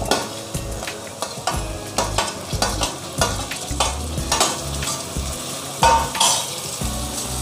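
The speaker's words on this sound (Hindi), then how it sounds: "और इसे भी प्याज और जिंजर गार्लिक पेस्ट के साथ अच्छी तरह से सौते करेंगे।" Chopped tomato sautéed with onion and ginger garlic paste, busy rhythmic stirring with spatula scrapes and clinks against the pan over a continuous sizzle, close and loud.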